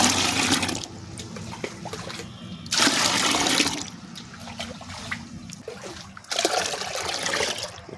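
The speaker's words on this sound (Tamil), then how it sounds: "இப்போ 10 லிட்டர் தண்ணி அதில் ஊற்றணும்." Ten litres of water are poured in bursts into an Amirtha Karaisal mixture, a natural farming fertiliser, gushing and splashing loudly in three separate pours with quieter trickling between them.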